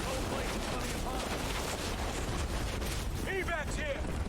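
Heavy, continuous fire from a very large mounted gun in Call of Duty: Advanced Warfare, a dense, roaring barrage that never lets up, with radio-style voices and chatter mixed into the din.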